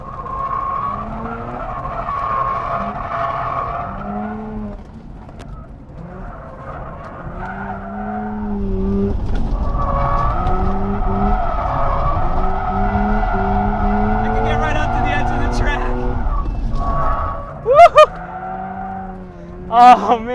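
A tuned Mazda RX-8 slides with long squealing tire skids that rise and fall over steady engine drone, loud and close, with a few sharp yelps near the end.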